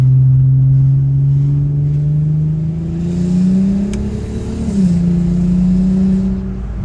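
A Volkswagen Golf MKV R32 accelerating, its engine drone rising steadily in pitch before a brief dip as it shifts, then pulling on, close and loud throughout with no talk.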